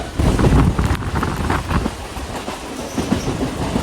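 Local passenger train running from Seoraphuli toward Tarakeswar in heavy rain, a steady loud rumble with rhythmic clatter of wheels over rail joints, heard from inside a nearly empty compartment.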